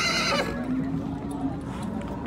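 Horses at the Talas livestock market give a loud, close neigh that rises and trails off over about a second, with market chatter and background crowd noise around it.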